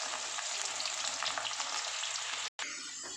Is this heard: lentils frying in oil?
yes